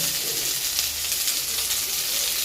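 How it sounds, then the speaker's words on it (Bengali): Potatoes fry in a pan of hot oil for aloo bhaja, giving off a close, continuous crackling sizzle at an even level with no talking. "আজকে আমার স্পেশাল রান্না হচ্ছে, এখানে হচ্ছে আলু ভাজা"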